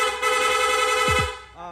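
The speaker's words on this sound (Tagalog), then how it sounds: "pwede tayo mag-rapid. Long press lang po yung horn switch" Honda Click V3 scooter horn held on its rapid setting, sounding as a loud steady blaring tone close by with a brief break near the end; no talking.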